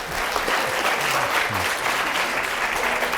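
Lecture audience applauding, a dense continuous wash of clapping from many hands throughout, filling the room evenly.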